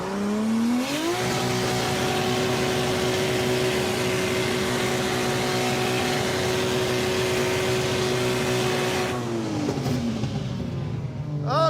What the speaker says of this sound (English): I hear engine noises